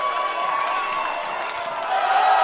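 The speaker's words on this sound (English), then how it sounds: "And you can hear the crowd saw the action replay as well." A crowd at a secondary school boys' basketball semifinal between Rotorua Boys High School and Christ's College cheers during an action replay, a steady wash of voices and whoops that swells near the end.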